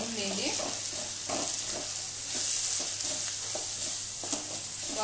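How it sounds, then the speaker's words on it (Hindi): Masala with onions and turmeric fries in a pan on a slow flame, giving a steady close sizzle with soft stirring scrapes throughout. "मसाला को हम एकदम स्लो फ्लेम पे 1 मिनट के लिए प्याज के साथ भून लेंगे।"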